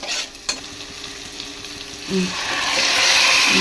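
Chicken with whole onion and small garlic cloves sizzling in a pan with a little water, a loud steady frying hiss that swells after a few stirring clatters.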